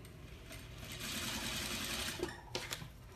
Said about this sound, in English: I'm using the edge of the foot to stitch this